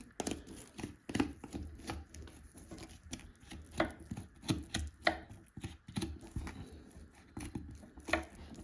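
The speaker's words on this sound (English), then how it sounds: "nicking it with your knife, staying as close to the bone as you can" A knife works deer meat away from the bone, making faint, irregular nicks, taps and soft scrapes close by, with uneven pauses between cuts.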